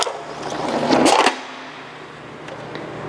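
A Model 149 jacketing roller being cranked as jacketing material rolls through, giving a short loud mechanical whir and clatter for about a second that stops abruptly, followed by quiet hum.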